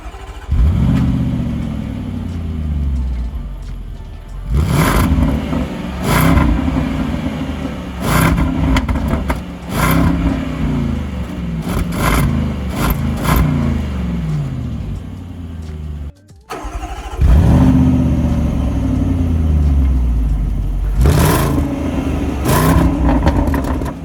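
A 2024 Land Rover Defender 90 with a 525 hp V8 revs and accelerates in repeated loud surges, its deep engine note rising and falling, with a brief cut partway through, close up and without any talk.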